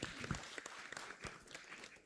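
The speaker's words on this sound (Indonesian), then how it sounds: "Menas dumun tepuk tangan." Faint, scattered applause from a seminar audience in Bali, with sparse uneven claps heard at a distance rather than a full ovation.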